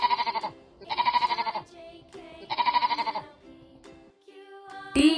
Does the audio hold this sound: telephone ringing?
no